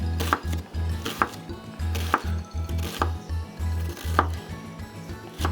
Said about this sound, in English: All right, the red or the purple onion, one or the other is diced up.